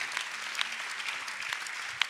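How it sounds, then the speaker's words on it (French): Applause from an audience at a French panel discussion, with soft, steady clapping at moderate distance and a few sharper close claps standing out. "Je suis d'accord avec ces applaudissements."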